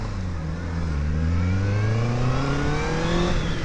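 A Honda CB650R inline-four motorcycle engine revs up steadily and loudly, its rising pitch climbing smoothly over several seconds with no pause.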